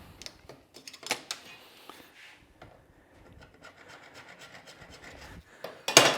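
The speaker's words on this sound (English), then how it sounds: "Hacksaw will fly through this." A hacksaw cuts through PVC pipe with quiet, close rasping strokes, starting with a few scattered scrapes and settling into a steadier back-and-forth rhythm before ending in a sharper scrape.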